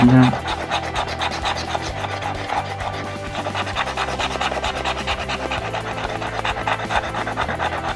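An FDJ Mission Patrimoine scratch lottery ticket is scratched up close with a steady, rapid rasping that runs continuously.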